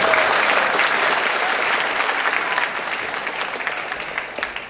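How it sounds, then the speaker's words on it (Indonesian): A large crowd of more than a thousand at a Devfest keynote session applauds in a full, sustained round of clapping that tapers slightly toward the end. "Tepuk tangan dulu"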